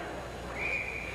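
A referee's whistle at a 1976 NHL ice hockey game between Montreal and Los Angeles gives one brief, faint blast over steady arena crowd noise.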